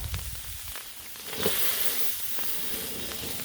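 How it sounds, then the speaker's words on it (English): Corn on the cob steams and sizzles on a Blackstone griddle, a soft continuous hiss that swells slightly midway, fairly quiet with faint background clatter. "Keep that steam going."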